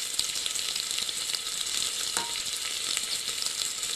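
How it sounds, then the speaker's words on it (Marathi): Sliced onion, a large one cut lengthwise, sautés steadily in a hot pan, a dense continuous sizzle with a brief scrape partway through, close and fairly loud with no voices. "तो आपल्याला व्यवस्थित परतायचा आहे."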